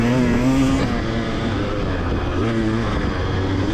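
A 2-stroke and a 4-stroke dirt bike race close behind a rider on a motocross track, their engines droning loud and steady with rising and falling revs and no break.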